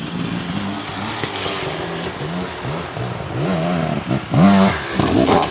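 A 2025 Beta dirt bike, an XTrainer or RR X-Pro on stock DOT tires, rides off-road, its engine loud and close with a steady drone and repeated revving swells that rise and fall in pitch.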